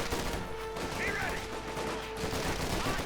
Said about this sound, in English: Rear column troops are firing over with their M1 carbines.